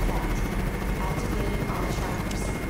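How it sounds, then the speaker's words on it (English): A loud, steady video game helicopter rotor drone fills the whole stretch as it flies away, constant and close, with voices faintly mixed underneath. "Thank God they don't hear that loud helicopter flying away."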